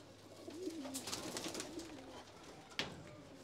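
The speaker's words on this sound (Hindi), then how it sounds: "ये देखिए क्या खूबसूरत कबूतर" Pet pigeons in a home loft give soft, low rolling coos in a few drawn-out phrases, close by, over a faint steady background hum, with a single sharp click near the end.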